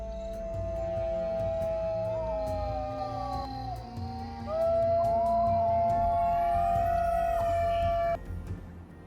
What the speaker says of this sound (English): as if the world had stopped waiting for the first howl of the new generation